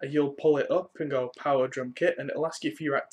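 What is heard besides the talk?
No distinct noise like a dog, phone or traffic.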